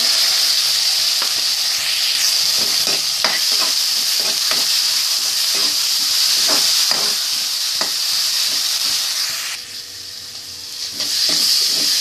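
Ground spice paste fries with sautéed onions for a fish curry, a steady hiss of sizzling broken by repeated scraping stirs, close and loud, dipping briefly before resuming.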